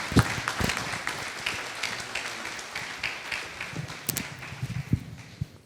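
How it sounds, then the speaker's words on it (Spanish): Applause from an audience at a Spanish-language church conference for pastors and leaders, a steady dense patter of clapping across the whole stretch with a few sharper claps standing out near the front. "le voy a pedir que me ayude a darle un voto de aplauso"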